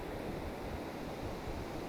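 Ocean waves at sunrise, a soft continuous wash of surf with faint wind, distant and even, with no talk over it.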